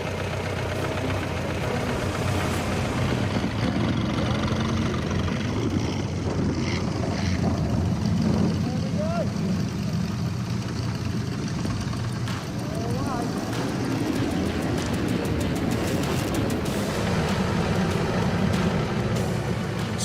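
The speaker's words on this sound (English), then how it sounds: "pushes the 107-year-old Model T to its top speed of 90 kilometres per hour" A 107-year-old Ford Model T engine drones steadily at its top speed of 90 km/h on an outback road, a constant loud mechanical hum and rattle filling the whole stretch, with no one talking.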